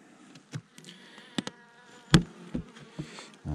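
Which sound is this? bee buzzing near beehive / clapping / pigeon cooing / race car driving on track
bee buzzing near beehive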